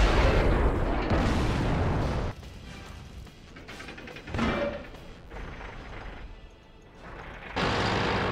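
Tank cannons fire in World of Tanks: three heavy booming blasts, one at the start, one midway and one near the end, each with a rumbling tail, over quieter engine and battlefield noise.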